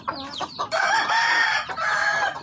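A Brahma rooster crows close by, a loud drawn-out call in a few rising and falling segments, with short clucks before it.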